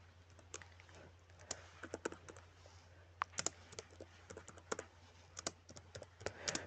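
Fast, uneven typing on a computer keyboard as a sentence is entered, with sharp individual key clicks in quick bursts and short pauses, close and fairly quiet over a steady low hum.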